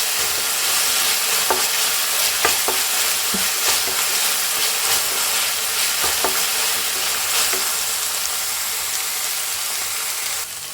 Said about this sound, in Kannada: ಚೂರು ಶುಂಠಿ ಬೆಳ್ಳುಳ್ಳಿ ಪೇಸ್ಟ್ ಹಾಕ್ತೀನಿ.